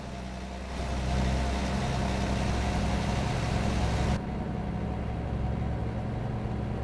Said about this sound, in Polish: naprawdę w te Volvo jest wsadzony jakiś też porządny silnik